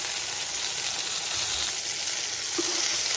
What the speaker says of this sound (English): so that the turkey is nicely seared on all sides